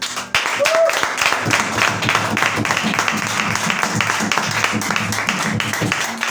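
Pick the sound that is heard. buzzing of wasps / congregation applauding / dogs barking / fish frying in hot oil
congregation applauding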